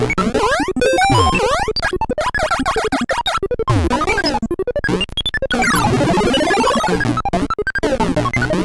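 Busy chiptune music from the Mario's Hideout stage of Donkey Kong Junior, with rapid bleeping melodies and arpeggios sweeping up and down, loud and continuous, no voices.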